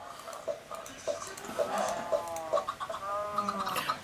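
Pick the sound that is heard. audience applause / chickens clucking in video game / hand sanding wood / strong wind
chickens clucking in video game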